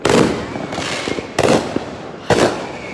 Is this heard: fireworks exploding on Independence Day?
yes